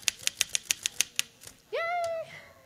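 Typewriter keys clack in an even run of about eight sharp strikes, followed by a ringing bell-like tone near the end, close and clear with no talking.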